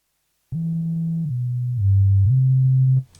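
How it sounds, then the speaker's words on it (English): A deep synth bass in a hip-hop production plays a few sustained low notes in sequence, stepping down and back up, loud and clean with no voices. "this is very bassy sound"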